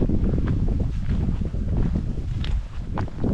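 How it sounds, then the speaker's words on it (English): Strong wind roars across a bare, treeless mountain top in a state forest, a continuous loud buffeting rumble battering the microphone, with no voices. "It's very windy on top of the mountain."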